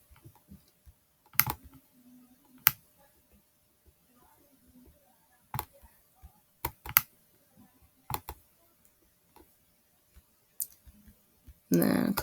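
A computer mouse clicks in sharp isolated taps, about a dozen spread irregularly across the stretch, with quiet talk in the gaps and a brief louder noise at the end.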